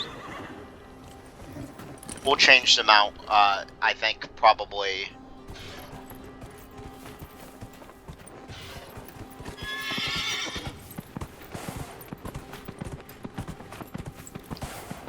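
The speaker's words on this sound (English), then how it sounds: "let's go ahead and summon the horse" A horse in the video game Dragon Age: Inquisition whinnies loudly in a rising, stuttering neigh, followed by a steady clip-clop of hooves, while someone talks briefly.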